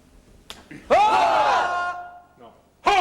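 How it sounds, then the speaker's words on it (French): A single sharp, dry finger snap cracks out in a school workshop, followed by a loud sustained group vocal swell that rises and fades, then another burst of voices begins. "À mon claquement de doigts sec."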